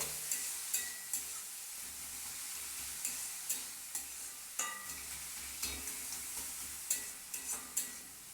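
Grated carrot and sugar for carrot halwa are stirred in a pan with a spoon, giving a quiet, repeated scraping at an irregular rhythm over a soft sizzle, close and alone.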